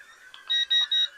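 Three short electronic beeps in quick succession, loud and close, from a Holy Stone HS210F mini drone signalling speed setting 3.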